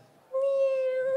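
A person at a birthday celebration imitates a cat with one drawn-out, nasal meow, loud and close after a brief quiet pause.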